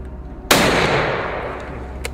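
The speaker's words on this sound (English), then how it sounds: "Gunshots rang out, tearing through the forest silence." A single sharp gunshot from hunters in a forest during a wild boar hunt, loud and close with a long decaying echo, followed by a faint second crack.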